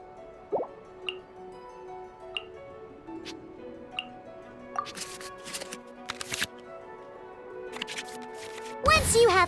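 Genshin Impact card game interface sounds as cards are shuffled back into the draw pile: soft drip-like ticks and short shuffling bursts spaced across the stretch, ending in a busier flurry, with faint game music underneath.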